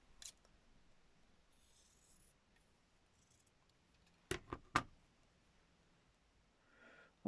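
Scissors cut paper for a Peter Rabbit junk journal basket, heard as two or three quick, close snips in an otherwise quiet room.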